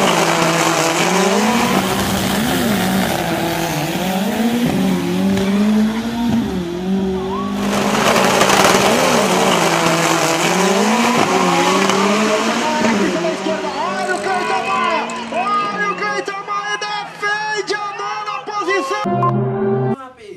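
A Fiat Mille drag racing car, built for Brazilian drag strip racing, roars and revs hard down the track. The engine note rises and falls loudly and steadily for the whole stretch, with a voice talking over it.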